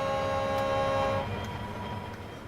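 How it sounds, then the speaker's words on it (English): Train arriving in the Rolling Line model railway game, a horn blast sounding loudly for about a second, then a rumbling rolling approach that gradually fades. "I was waiting. Here it comes. Here comes the train."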